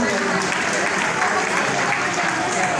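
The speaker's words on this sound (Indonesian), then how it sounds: "Tepuk tangan untuk kita semua." An audience at a PKB ceremony at the DPP office in Jakarta breaks into dense, continuous applause, loud and unbroken, with voices talking over it.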